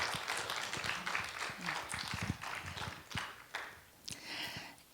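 A church congregation claps in uneven, fairly faint applause with distinct individual hand claps rising and falling over five seconds.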